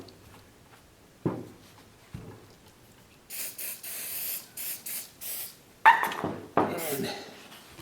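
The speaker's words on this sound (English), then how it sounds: "I got the spray version of this. Just hose this right down" Several bursts of spray from a trigger bottle of Birchwood Casey Blue & Rust Remover onto a shotgun, some short and some held, hissing close by after a couple of faint knocks.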